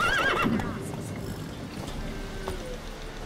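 Roach, the horse in The Witcher III: Wild Hunt, gives a short whinny near the start, followed by faint hoof clip-clop over a steady ambient background.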